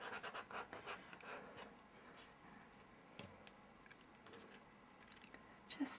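A Zig pen marks small purple details onto a paper envelope, producing faint, close scratchy strokes in short bursts with quiet stretches between them.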